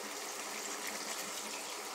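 A cup of water poured into a pot of chicken tinola, a steady broadband splashing gush that runs without a break for about two seconds at moderate loudness.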